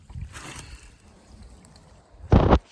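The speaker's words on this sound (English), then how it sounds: "several shovels directly through the sluice, right from the middle of the creek here" Shovelled creek gravel and water are fed through a sluice in the middle of a creek, giving a soft sloshing rush at the start and a louder, brief splashing pour near the end.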